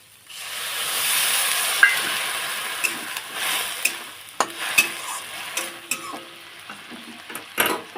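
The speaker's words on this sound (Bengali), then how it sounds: "তেল ছেড়ে ভালো করে ভেজে নিয়েছি একটু জল দিয়ে দেবো" Bananas frying in oil with neem leaves, a hiss rising as water goes into the hot pan, then steady bubbling sizzle with repeated utensil knocks and scrapes, close and clear.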